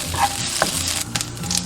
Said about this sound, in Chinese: 直接用煎豆腐的油下入姜丝炒香